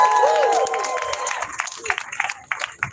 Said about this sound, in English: Give it up for Governor Kathy Hochul.